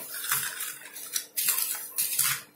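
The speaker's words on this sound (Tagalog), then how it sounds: "i-mix lang po natin siya ng maigi." A metal utensil stirs and mixes ingredients in a bowl, close and fairly loud, with rhythmic scraping and clinking strokes repeating about every second.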